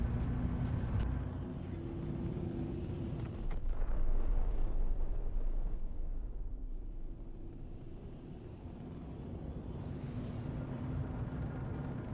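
Rumbling explosions from a bombing run in the space game Star Citizen, a sustained low roar swelling around the middle, with whining engine passes overhead at the start and end.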